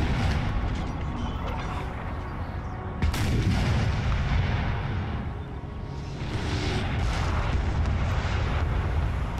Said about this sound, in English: despite this relentless bombardment from the red team